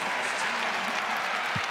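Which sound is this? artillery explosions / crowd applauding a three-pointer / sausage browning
crowd applauding a three-pointer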